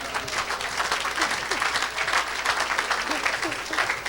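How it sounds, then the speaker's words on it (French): A church congregation applauds and cheers for Jesus, giving continuous, dense clapping from a crowd across the whole stretch, with voices mixed into the applause. "Est-ce qu'on peut acclamer pour Jésus?"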